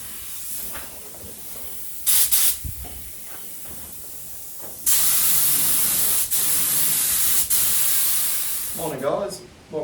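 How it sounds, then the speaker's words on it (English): Bursts of spray paint hiss as undercoat goes onto a car bonnet outdoors, in short and longer blasts, close and loud, with quieter gaps between and a brief voice near the end. "I can spray it here out of the wind"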